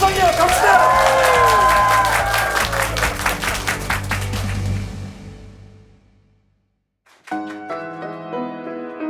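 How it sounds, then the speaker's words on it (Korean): A studio audience at a talk-concert show bursts into loud applause and cheers mixed with shouting voices, fading to silence before music begins. "박수 한 방이요"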